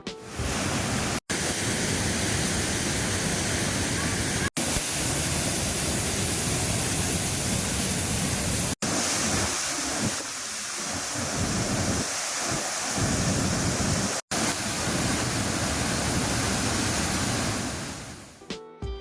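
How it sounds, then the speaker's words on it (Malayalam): Meenthulli waterfall swollen after the first rains pours in a loud, dense, continuous roar of broadband rushing water, steady from start to finish with a few brief dropouts and no voices. "ആദ്യത്തെ മഴയിൽ തന്നെ വെള്ളച്ചാട്ടത്തിന് ഉശിരി വയ്ക്കും."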